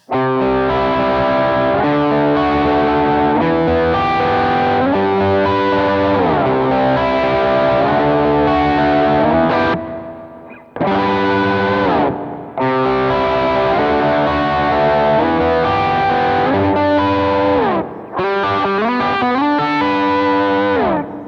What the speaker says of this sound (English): go ahead and play with that Control 1 knob, just so you can hear what it does as you add in more of that dwell setting